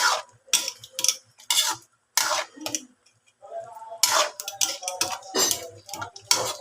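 Chicken curry with coconut milk being stirred in a pot, with repeated scraping and clanking of a utensil against the metal in irregular bursts and pauses, up close.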